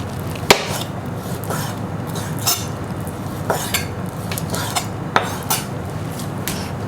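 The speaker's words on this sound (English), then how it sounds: "I'll cut these into thin strips" Knife slicing chicken into thin strips on a board in a home kitchen while making butter chicken, giving a series of sharp, separate taps and clunks spaced about a second apart over a low steady background.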